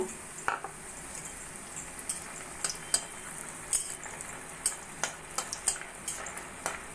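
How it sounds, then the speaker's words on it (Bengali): Bori, small sun-dried lentil dumplings, frying in a kadai of hot oil for a bottle gourd curry, with a steady soft sizzle under scattered light clinks and stirring taps, close and fairly quiet. "কড়াইতে তেল গরম বসিয়ে দিয়েছি এবার আমি কয়েকটা বড়ি ভেজে নেব"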